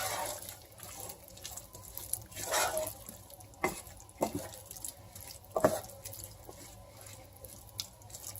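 Leftover beef juices pour and splash into a cooking pot, a faint watery trickle with a few drips and soft clinks in a quiet kitchen.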